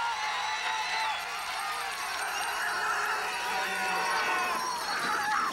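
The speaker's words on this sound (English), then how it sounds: "Listen to the crowd." A large crowd roars and cheers steadily beside the Altenberg bobsleigh track in Germany during a 1996-97 four-man World Cup race, a continuous broad wash of noise swelling slightly toward the end.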